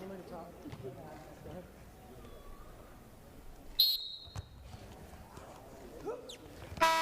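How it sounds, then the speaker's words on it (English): A brief, sharp electronic buzzer ends a college wrestling match over a noisy crowd, with a commentator talking throughout. "There's the buzzer, and Trevor Chumbley"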